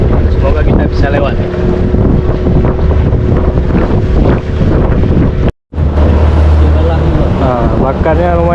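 Strong wind buffets the microphone on a small boat heading out through an estuary mouth in stormy weather, a loud continuous roar with water and hull noise beneath, cut by a brief dropout midway.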